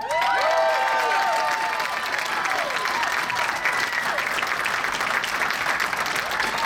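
A comedy club crowd applauds and cheers for comedian Ben Bailey, a steady, loud wash of clapping with whoops and shouts rising over it throughout.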